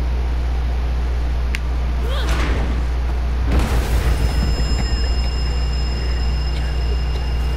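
A grenade goes off in The Walking Dead video game, a sudden broadband boom that swells and rolls out over a steady low rumble, followed by a second heavy burst and lingering debris noise.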